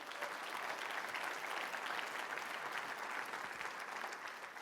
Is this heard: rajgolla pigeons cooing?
no